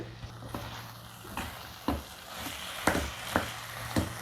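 Pumpkin sabzi sautéing in a pan makes a soft, low sizzle broken by regular spoon stirs and scrapes about every half second, fairly faint and close.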